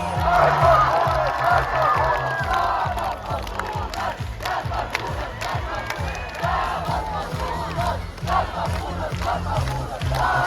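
Big crowd cheering and shouting at a city festival in Panevėžys, where the Lietkabelis basketball team is presented on stage, loud and continuous with a steady low thumping beat of music beneath.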